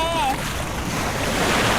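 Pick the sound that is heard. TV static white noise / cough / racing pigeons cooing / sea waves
sea waves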